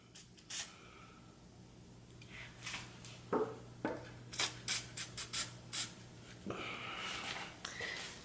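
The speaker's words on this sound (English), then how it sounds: "We'll go ahead and spray the bolts on the tank also" Penetrating spray hitting the stuck bolts on the tank of an old Western Auto 5 hp boat motor, heard as short, close hissing squirts in an irregular series, with rattles and handling noises between them.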